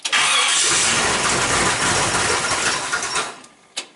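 A 1949 Ford Custom's engine with a lumpy cam cranks and roars to life, running loud and rough through its exhaust with an uneven, choppy idle before cutting off near the end.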